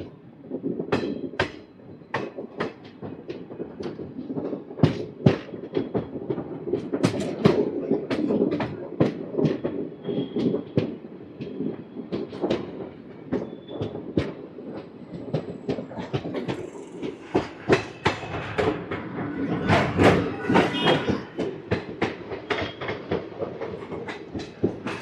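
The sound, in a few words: train crossing the Krishna river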